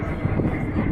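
An old-looking military airplane passes directly overhead near Šiauliai, Lithuania, a loud, broad, steady roar with low rumble throughout.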